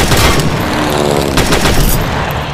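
Rapid bursts of gunfire from the World War Heroes video game, dense and loud, with overlapping shots and booms running continuously through the whole stretch.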